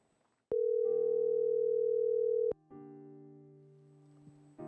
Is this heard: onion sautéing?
no